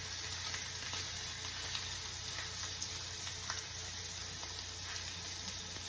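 Steak frying in a pan over high heat makes a steady, dense sizzle and hiss that runs the whole time, close and even, with faint crackles and no voices.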